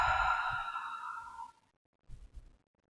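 A long, deep voiced exhale during a yoga breathing exercise, loud and close at first and then fading into silence, followed by a few soft low thumps.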